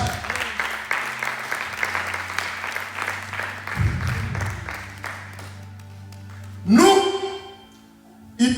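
Church congregation applauding after a French sermon, sustained clapping and cheering that fades midway, then a sharp burst of noise and feedback near the end.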